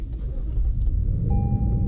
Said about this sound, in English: as you can hear, it's an old school V8 that is really smooth